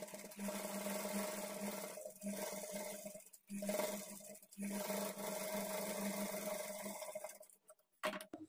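Sewing machine stitching an edge along a blouse waistband, a steady close motor hum with a rhythmic needle whir running almost continuously, broken by two or three brief pauses and stopping near the end.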